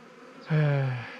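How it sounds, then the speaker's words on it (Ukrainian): Honeybees flying around an opened hive during honey extraction as a robbing attack begins, a close buzzing drone that swells in suddenly and holds steady for about half a second before easing off. "вже бджоли літають, починається напад"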